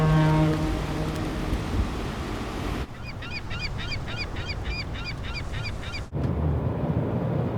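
A synthetic horn sound effect in an edited sailing scene blares in a rapid, repeating honking pattern for about three seconds over a steady bed of water and wind noise, loud and close.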